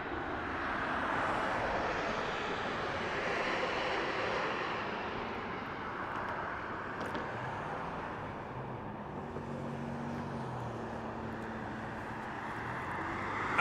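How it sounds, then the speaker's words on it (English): A Southwest Airlines airliner comes in to land at Las Vegas Harry Reid International Airport, its engine roar broad and moderately distant, swelling and then easing, with faint road traffic underneath and no voices. "we have another Southwest flight coming in"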